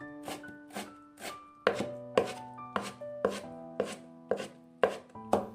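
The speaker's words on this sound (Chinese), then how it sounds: "挤好之后给它放在案板上切碎" A knife chops squeezed, blanched spinach on a cutting board in sharp, evenly spaced strikes, about a dozen distinct close thuds with slight ringing between them, no voices.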